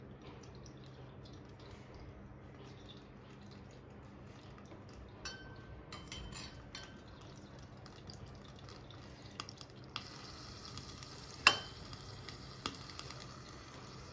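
Oil sizzling faintly as sarva pindi, a Telugu rice-flour flatbread, fries in a pan: a soft hiss with scattered drips and small crackles that grow denser and sharper toward the end.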